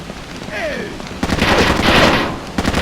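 Automatic gunfire in the tactical shooter Rainbow Six 3 erupts as loud, rapid bursts of shots, with a voice heard briefly before the firing starts.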